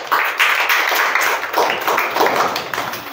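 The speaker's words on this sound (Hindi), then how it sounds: "आप लोग ताली से इनका स्वागत करें।" A class of students clapping together to welcome classmates, a dense, steady burst of applause from many hands nearby, lasting the full few seconds without pause.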